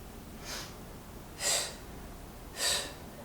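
Quick, sharp breaths during a yoga session, three short puffs about a second apart rising from a steady background hiss, moderately close, with no speech.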